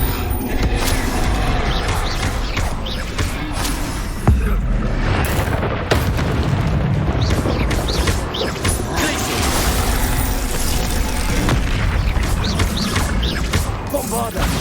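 Booming blasts and crashes from the Bombarda blasting spell in Hogwarts Legacy, loud and dense, with several impacts over busy game noise and a voice calling out spell names.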